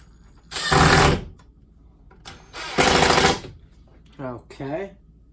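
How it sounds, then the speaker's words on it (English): A power drill bores into kitchen cabinets to fit new IKEA Blankett handles: two loud, close whirring bursts about a second each, followed by a short spoken remark. "Let's drill these right in real quick."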